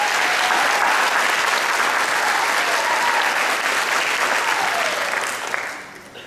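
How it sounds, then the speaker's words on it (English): At the DMAC graduation ceremony in 2016, a crowd gives the graduating students loud, sustained applause that tapers off near the end. "Can we just give another round of applause to these guys that are graduating?"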